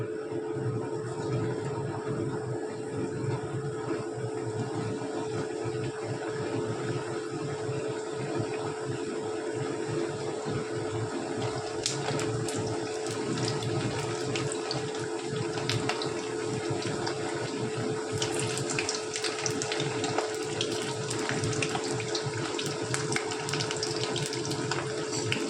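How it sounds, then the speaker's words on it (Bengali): Potatoes fry one by one in hot oil, a dense, steady bubbling hiss that sounds almost like running water, holding evenly throughout with a few sharper crackles near the end and no talking. "এবারে আমি একটা একটা করে আলু ছেড়ে দিচ্ছি তেলের মধ্যে।"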